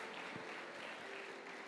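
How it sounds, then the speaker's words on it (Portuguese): A church congregation applauds during a celebration service, a steady wash of clapping that sounds distant and faint, continuing evenly with no clear voices on top. "Você pode aplaudir o Senhor pela vida do servo de Deus."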